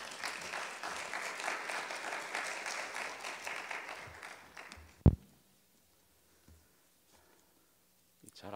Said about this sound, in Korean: 우리 목사님 크게 박수로 환영하도록 하겠습니다.